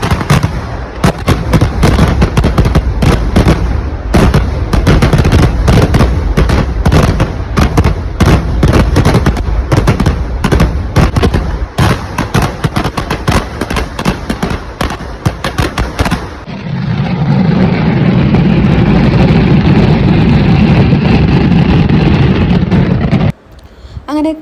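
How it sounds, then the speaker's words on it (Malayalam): A Kerala temple pooram fireworks display in Palakkad roars with dense, rapid volleys of loud bangs and crackling blasts, then gives way to a sustained rumbling roar of bursts before cutting off abruptly. "നമ്മൾ മെയിൻ വെടിക്കെട്ട് കാണാൻ പോയി"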